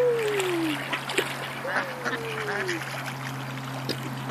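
Ducks being fed at a park quack and honk, with a couple of drawn-out calls over a steady low hum and light splashing; people talk nearby throughout.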